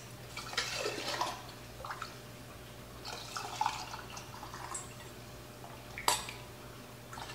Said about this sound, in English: I'm gonna fill up each jar to 1 inch of head space.